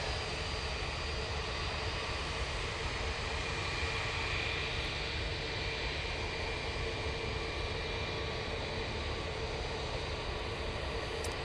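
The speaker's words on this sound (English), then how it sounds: "Ryanair 737 MAX 8 now arriving" Ryanair Boeing 737 MAX 8 arriving at Manchester Airport, heard as a steady, moderately quiet engine roar with a high whine that holds level the whole time, with no voices over it.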